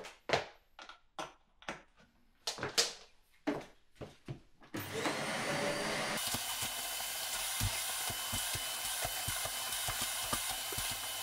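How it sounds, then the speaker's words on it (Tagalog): A low-cost vacuum cleaner bought for about 50 euros runs on a carpet in a Zagreb apartment, starting partway through as a loud, steady broadband roar that continues to the end after some earlier knocks and clatter. "Maganda-ganda itong vacuum na nakuha natin, man."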